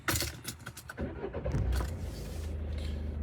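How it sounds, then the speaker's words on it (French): A car engine rumbles into a steady low idle after a jangle of keys and clicks, then keeps humming evenly and close by, with no talking. "Je vais méditer avec le bruit du moteur."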